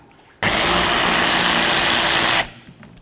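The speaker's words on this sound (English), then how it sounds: "there's a mounting nut. Go ahead and remove that nut." A power tool spins off the wiper arm mounting nut on a 2007–2017 Ford Expedition, one loud, steady, high-pitched whirring burst of about two seconds that starts and stops abruptly, close to the microphone.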